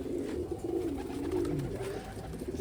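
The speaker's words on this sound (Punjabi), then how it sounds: "ਸਾਰੇ ਇੱਥੇ ਹੀ ਆਉਂਦੇ ਕਬੂਤਰ" Pigeons cooing continuously close by, soft overlapping low throaty coos layered on a quiet background, with no talking.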